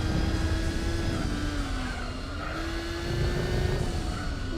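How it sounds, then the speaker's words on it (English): A race car's turbocharged engine revs and strains in Gran Turismo 4, a steady droning whine with slowly wavering pitch, moderately quiet and continuous with no voices. "Listen to the sound of that turbo, it sounds pathetic."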